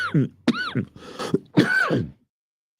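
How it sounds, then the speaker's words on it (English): A few harsh, throaty coughs in a quick cluster, close and fairly loud, followed by silence. "I hate that I'm coughing like this"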